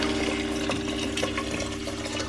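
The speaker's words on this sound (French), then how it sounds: "Mettre le bouillon." Chicken stock is poured into a pan of risotto, a steady close liquid pour with a faint bubbling texture, continuous and alone.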